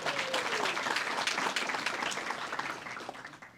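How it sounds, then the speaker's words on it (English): Audience applause at a crime victims' rights luncheon: a steady wash of many hands clapping from a moderately distant crowd, tapering off near the end. "Make sure you give a really big applause for John Eggerston, County Administrator"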